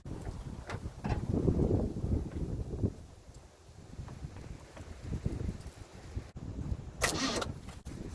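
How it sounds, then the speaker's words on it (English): A 1957 Chevy engine, just fitted with a rebuilt carburetor, cranks and rumbles close by in a steady low churn, briefly easing off midway before surging again, with wind buffeting the microphone. "hook up the battery, crank the engine, and see what happens"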